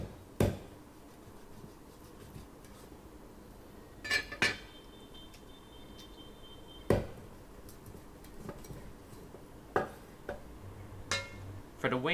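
A cleaver chops a duck drumette in half on a cutting board, giving several sharp, separate thwacks spread across the stretch, with a quiet kitchen background between strikes.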